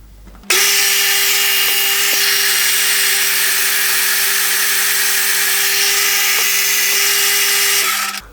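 A milling machine spindle spins an edge finder while locating a hole position on a copper 3D printer heater block. It gives a steady, close mechanical hum with a constant whine that runs evenly for several seconds, with no talking.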